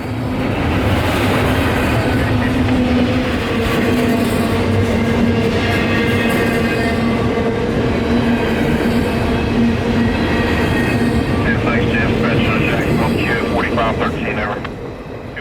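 A long CSX freight train of intermodal cars and juice cars rumbles steadily past at close range at night in Lakeland, Florida, wheels clattering and occasionally squealing, loud and continuous throughout.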